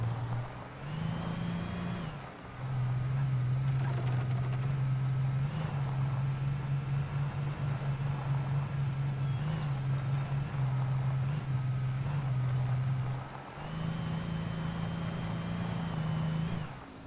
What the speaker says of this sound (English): but I don't think the engines would sound this bad